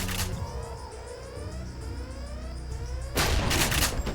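Shotgun slugs fired in Deus Ex (GMDX mod), one loud blast near the start and a heavier, sustained burst after a stretch of lower game background noise.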